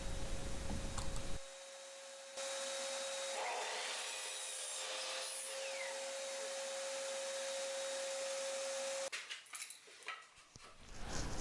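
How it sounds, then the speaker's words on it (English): A power saw cuts wooden boards to 19-inch lengths for a folding grill table top, giving a loud, steady whine that runs several seconds with a high tone, then spins down into rattling handling noises. "I'm now cutting the boards for the top of the table"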